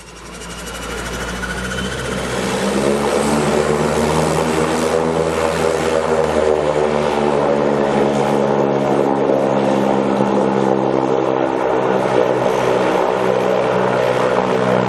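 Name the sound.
small propeller plane taking off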